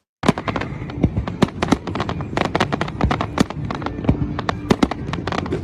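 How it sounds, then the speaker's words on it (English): Fireworks from a boat on the Fourth of July, played back from a recording: a dense, continuous volley of sharp cracks and pops, loud and irregular, with rapid bursts overlapping throughout. "This is fireworks that I filmed for my boat in 2022."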